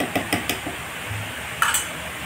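Gobindobhog rice sandesh mixture thickening toward a dough in a pan, stirred with a spoon that clatters against the metal in quick knocks at first, then a softer scrape and one more clank.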